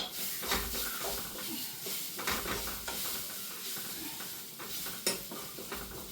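Spice paste with chilli powder sizzles and hisses steadily in hot coconut oil while being stirred, a close, moderately quiet frying sound with soft scraping, no voice.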